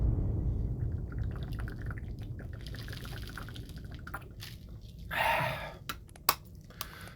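Cold water pouring into a container, a gurgling stream that swells into a brief gush followed by a few sharp drips and taps, fairly close, over a low background rumble.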